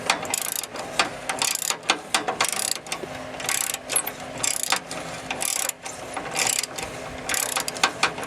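A ratchet works loose a rusty catalytic converter bolt under a 1996 Chevrolet Impala SS, loud close rapid pawl clicking in repeated bursts with short pauses between strokes, no talk.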